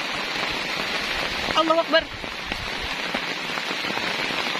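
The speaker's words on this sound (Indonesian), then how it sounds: "jadi ini hujannya hujan badai kabut" Heavy, dense rain hammers down during a stormy, misty night while camping alone on a mountain. The constant roar is loud and close, and a man exclaims briefly in the middle.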